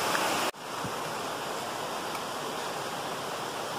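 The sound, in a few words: small waterfall cascade, flowing water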